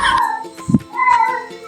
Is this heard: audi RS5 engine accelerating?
no